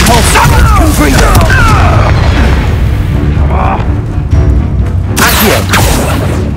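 Spell blasts from Hogwarts Legacy combat: loud booming impacts and crackling bursts layered with game music and effects, with a voice speaking over the fight.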